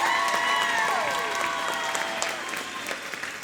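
Audience applause for middle school performers at a popular music concert, a steady wash of clapping from a crowd that fades slightly toward the end, with faint sustained tones lingering in the background.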